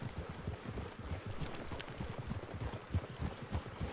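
Horse hooves clip-clop in Red Dead Redemption 2, a quiet, fairly steady trotting rhythm of soft thuds with no talk over it.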